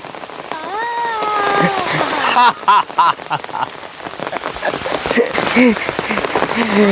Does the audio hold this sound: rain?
yes